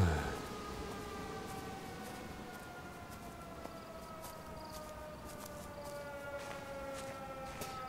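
A steady wailing civil defense siren in the video game Everybody's Gone to the Rapture, with long, slowly falling tones, holds throughout at constant loudness, with a low rumbling background underneath.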